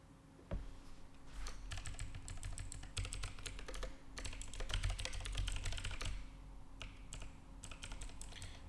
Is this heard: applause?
no